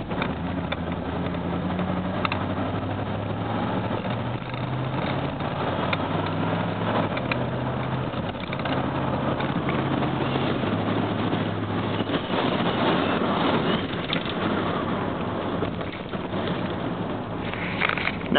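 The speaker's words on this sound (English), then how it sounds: "Here's the display of the sluggish but respectable acceleration." A 1984 Jeep Grand Wagoneer engine drones steadily throughout, its low tone holding and shifting in pitch steps as it pulls away with sluggish acceleration, with wind rumble over the microphone.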